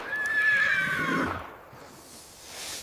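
A white horse neighs loudly and close, a shrill whinny that trails off into a shaky lower nicker, followed by quieter shuffling.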